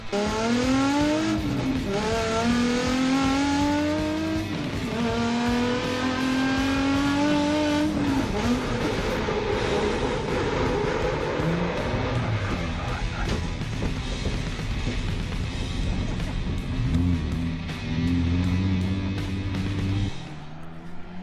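Nissan 350Z cars tandem drifting, engines revving with rising and falling pitch as tires squeal loudly in long sustained screeches, intense and continuous before easing off at the end.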